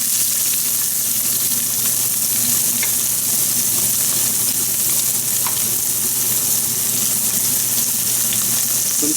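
Onions fry in oil in a pan for a chickpea and eggplant tagine, giving a steady, dense sizzle that holds even and loud throughout with no talking.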